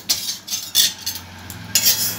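Mung dal toasts in a pan while a spoon stirs it, producing short bursts of dry rattling and scraping in an uneven rhythm over a faint low hum, close and moderately loud.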